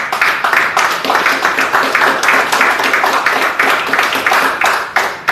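A church congregation claps together in loud, quick, rhythmic applause that keeps going steadily for the whole stretch.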